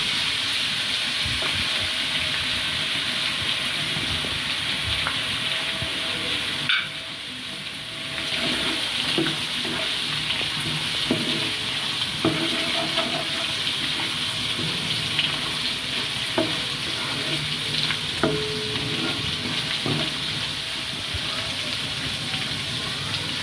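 Garlic ginger paste fries in a pan with a continuous hiss and sizzle, joined by faint clinks and scraping, with a brief lull partway through.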